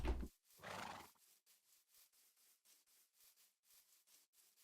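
A horse in the Sevtech modded Minecraft game gives a quiet, breathy whinny in two short bursts, then soft, evenly spaced hoof clops continue faintly.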